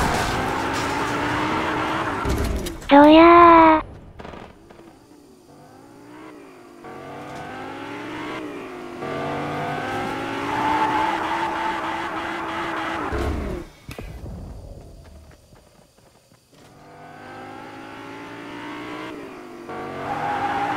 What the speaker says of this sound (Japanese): ガソリンスタンドに車をかっこよく止めるぜ